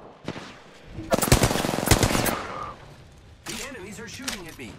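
Rapid automatic gunfire from an Apex Legends firefight, a loud sustained burst of shots in the middle of the clip, with a player's voice talking before and after it.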